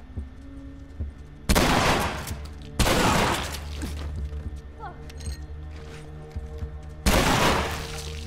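Shotgun blasts in The Last of Us ring out loud and close, three sharp booms spaced a few seconds apart with decaying tails, while a player talks in between.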